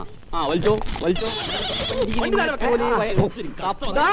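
A horse whinnies loudly in a horse-drawn cart scene from a Malayalam comedy film, with wavering neighs and faint hoof clatter mixed in among voices talking throughout.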